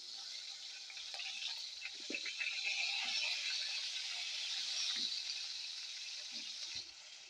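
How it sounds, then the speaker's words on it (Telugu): Tomatoes frying in hot oil in a pan produce a continuous, moderately loud sizzle, with a few soft knocks and shuffles of handling scattered through and no talk. "టమాటాలు కూడా వేయించుకుందామండి"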